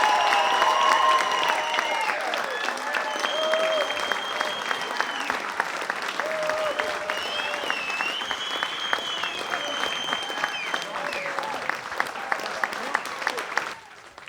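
A live audience applauds steadily for around fourteen seconds, a dense wash of clapping at moderate level, with some crowd noise and a voice partly over it before the clapping cuts off at the end.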